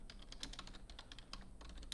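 Steady computer keyboard typing during AutoCAD drafting work, a quick even patter of close keystrokes with a final key press, alone and quiet.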